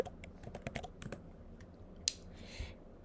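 Fingers type in quick bursts on a computer keyboard, a few scattered keystrokes and clicks close to the mic in a quiet room, with one sharper tap near the end.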